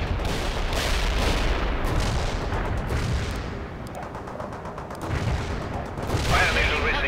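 Mortar and artillery fire in the war strategy game World in Conflict comes as rolling bursts of booms and crackling shots, swelling and fading at a moderate level, with voices talking intermittently.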